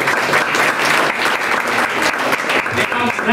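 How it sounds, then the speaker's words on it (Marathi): A church congregation claps together during a sermon, dense and steady applause filling the room from start to finish at close range. "टाळ्या वाजवा जरा"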